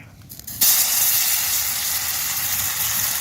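Onion pakora batter hits hot oil after a short quiet start, then a loud, steady broadband sizzle and hiss of frying continues unbroken to the end, with no talking.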